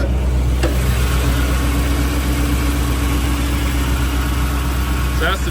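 Chevrolet 283 V8 with a 4-barrel intake in a 1961 Chevrolet Apache C10 truck idling steadily, a loud, even low rumble heard close up under the hood.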